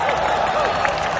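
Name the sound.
audience applause and clapping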